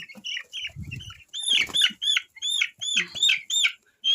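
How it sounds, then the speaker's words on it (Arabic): A 13-day-old broiler chick being picked up, giving a rapid run of sharp high chirping peeps with a brief burst of wing flapping, close and clear. "نمسك فرخ كده معانا نشوفه احواله ايه."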